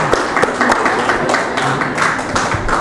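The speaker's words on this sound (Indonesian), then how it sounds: "Beri tepuk tangan kepada pasangan calon nomor 1." An audience claps for candidate pair number one at a school student council (OSIS) debate at SMA Negeri 1 Haurgeulis, a brief burst of irregular indoor applause.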